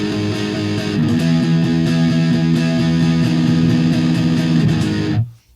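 Electric guitar played straight into a Marshall JCM 800 amp with extra gain and no effects, a thick driven riff of chugging chords with steady attack for about five seconds before stopping abruptly.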